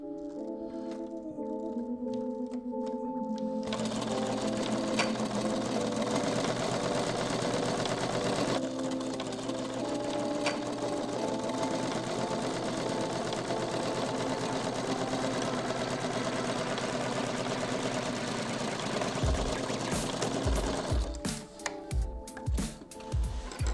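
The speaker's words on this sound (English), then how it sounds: "I've got the machine set to a fairly straight stitch" A sewing machine set to a fine straight stitch runs steadily through a dinette seat cushion for an overlander, humming loud and close for a long stretch before stopping with a few clicks and handling noises.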